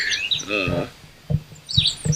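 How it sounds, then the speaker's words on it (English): Birds chirp on a sunny morning along the Appalachian Trail between Manassas Gap and Gravel Springs, with short, bright tweets scattered through the clip, fairly close, alongside a brief bit of talking. "Birds are chirping."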